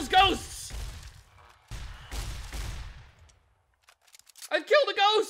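Shotgun blasts firing buckshot in Fallout New Vegas, a few heavy booming reports with a longer burst, loud and close, followed by a pause before a voice talks.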